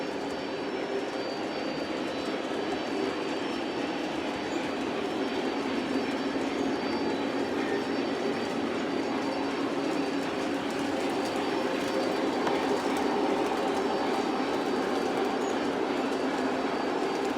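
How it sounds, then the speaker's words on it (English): Model trains running on three levels of a multi-level layout, a steady, even whirring and rolling rumble of small motors and wheels that carries on without pause, with no talking. "3 levels of trains going."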